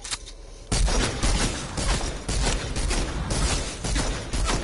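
Rapid bursts of assault-rifle fire shooting at a wall in a video game, starting abruptly after a brief quiet moment and continuing as loud, close, repeated volleys of sharp cracks.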